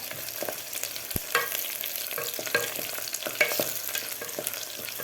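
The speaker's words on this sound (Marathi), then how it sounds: "आपल्याला थोडासा फ्राय करून घ्यायचा आहे कांदा" Onion frying in a pan for Khandeshi black-masala khichdi, a steady broadband sizzle with scattered stirring scrapes and a sharp clack near the start, moderately loud and close, with no talking.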